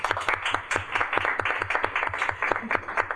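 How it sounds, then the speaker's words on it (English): A small group of people claps for summer interns at a workplace wrap-up event, the uneven claps near and distinct in a short, lively burst. "So you should give yourselves all a round of applause."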